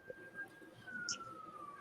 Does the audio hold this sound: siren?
yes